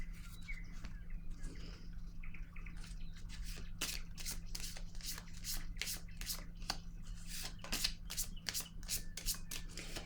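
Tarot cards being shuffled in a steady run of crisp riffling bursts, close and fairly loud, over a low constant hum, with faint chirps in the background.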